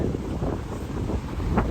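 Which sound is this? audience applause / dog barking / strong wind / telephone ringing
strong wind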